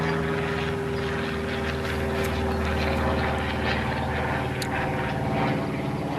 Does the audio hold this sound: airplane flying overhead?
yes